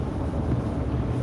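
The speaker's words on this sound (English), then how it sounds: "It's really windy here." Strong hurricane wind at the beach buffets the microphone in a constant deep roar, loud and steady with no voices over it.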